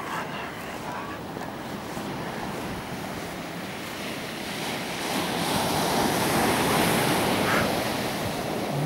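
Ocean waves wash steadily onto a black volcanic sand beach at Los Abrigos, Tenerife, a continuous surf roar with light wind noise that swells slightly louder toward the end.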